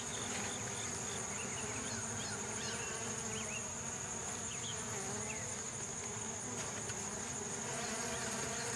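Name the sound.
bees buzzing around a beehive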